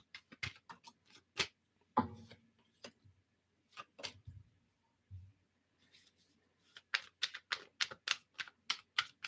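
Computer keyboard keys clatter in quick bursts of typing, close and soft, with a pause of sparse taps in the middle before a rapid run of keystrokes; no voices.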